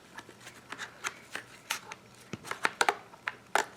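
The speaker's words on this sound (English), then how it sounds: "So we can hopefully now wedge the scissors in." Scissors snip through a piece of card in short, crisp, irregular cuts, close up and growing sharper toward the end.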